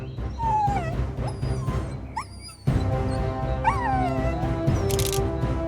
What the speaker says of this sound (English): Suddenly, the kids heard Buddy's barking and realized that he was on the farm